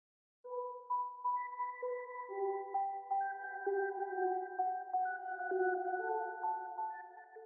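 Crushed bell sample from Arcade with delay tape and textured effects, a soft, steady sequence of repeating chimey tones layered and overlapping, quiet and alone for several seconds.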